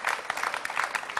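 A studio audience claps through a televised broadcast, with quick, dense, moderately faint applause and no voices over it.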